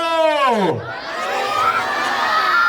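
A crowd at a Gurjar Kshatriya Kadiya Samaj gathering in Kamrej cheers and whoops loudly, opening with a sharp falling whistle-like cry before the noisy cheering swells and continues.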